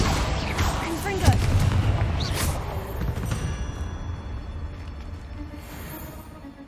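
Confringo explosive spell cast in Hogwarts Legacy, a loud burst with whooshing impact and booming crackle early on, followed by a fading rumble and scattered game noises.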